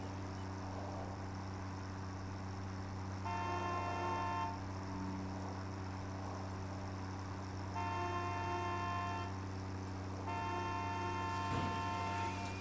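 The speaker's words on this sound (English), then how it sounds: "I honked my horn." A truck horn in a video game blares in three long, steady honks over a constant low engine drone, with gaps of rumbling between blasts.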